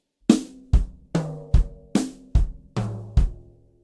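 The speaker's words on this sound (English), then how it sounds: "implement the bass drum where all the left-hand strokes were, or substitute" Drum fill on a kit with bass drum kicks substituted for the left-hand strokes, alternating tom hits and deep kicks in an even pattern descending around the toms, alone without talk.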